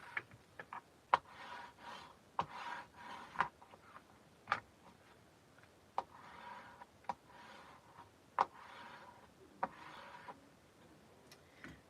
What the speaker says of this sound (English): I am going to burnish these down just to make sure that they're on there.